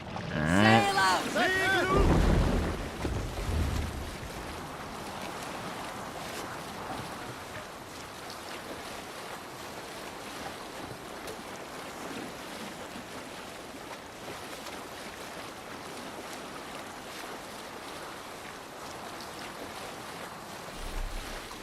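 A Viking longship sails the open sea in Assassin's Creed Valhalla, with a steady wash of waves and wind. A louder, busier stretch at the start settles into an even, continuous rush.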